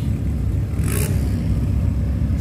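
A Chevrolet Celta idles and revs at the entrance to a car show in Mogi das Cruzes, giving a steady, close, low engine rumble. A short whirring scrape sounds midway through, and no one speaks.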